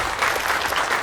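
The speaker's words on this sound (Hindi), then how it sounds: "एक बार जोरदार तालियां हो जाएगा।" Dense, steady applause from an audience at a Mrs Borivali 2023 beauty pageant event, a continuous wash of many hands clapping at once, loud and even throughout with no talking.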